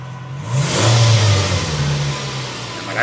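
Suzuki Vitara converted to run on CNG revs its engine up from a steady hum and holds the higher pitch, then eases back, recorded close with no talking.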